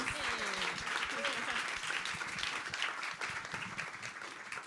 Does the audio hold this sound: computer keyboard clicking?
no